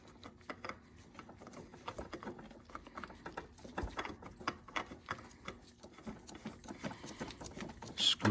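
Oil filter spun onto a riding lawn mower by hand, giving a close, irregular run of light scraping and clicking threads with soft knocks through the whole stretch and a louder bump at the end.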